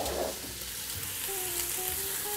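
A garlic clove frying in a pan with herbs and spices for a mussel dish with pak choi and soy sauce, giving a steady close sizzle with no talk over it.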